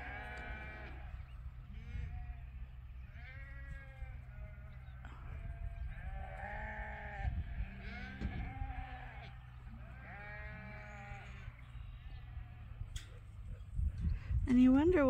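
Sheep bleating repeatedly on a farm, two animals quarrelling near a feed trough, with calls arriving in uneven bursts over a low steady background rumble, fairly close and moderately loud.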